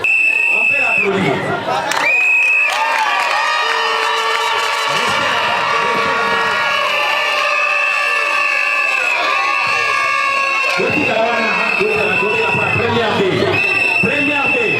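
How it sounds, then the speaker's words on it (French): A crowd at a school year-end ceremony cheers and applauds, with children's shouts and a sustained tonal sound running throughout, loud and continuous. "On peut l'applaudir."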